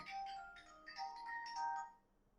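A mobile phone ringtone plays as a short repeating electronic melody of bright tones, moderately loud and close, sounding alone for about two seconds before it stops.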